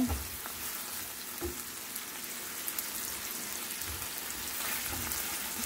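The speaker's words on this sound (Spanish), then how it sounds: "vamos a tratar de sofreír la cebolla primero hasta que la cebolla esté un poquito suave" Chopped onion sautés steadily in a hot pan for stuffed peppers, giving a dense, continuous sizzle with a few soft stirring thumps, close and unbroken, with no voices.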